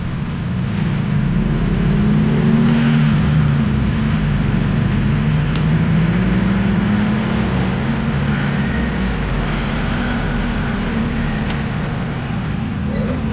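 Steady road traffic with cars passing on a busy street, a continuous low engine and tire rumble that stays fairly loud and even throughout, with no talking.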